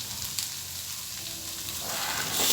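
Peas go into a sizzling tomato masala in a pan, and a continuous close fry hiss grows louder and brighter toward the end as the peas hit the hot oil.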